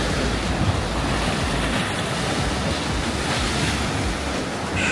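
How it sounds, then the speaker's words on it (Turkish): Sea waves wash steadily into a bay at Karaburun on a choppy day, a continuous loud surf roar mixed with gusting wind buffeting the microphone, with no voices. "Ve bugün dalga var çok."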